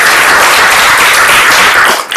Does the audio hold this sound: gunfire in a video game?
no